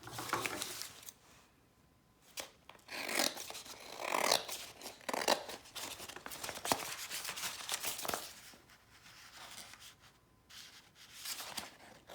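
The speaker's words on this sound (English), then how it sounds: "fold it again and cut it this time across." Scissors cut across folded paper up close during bookbinding, with a series of crisp snipping and sliding strokes separated by brief pauses and light paper handling.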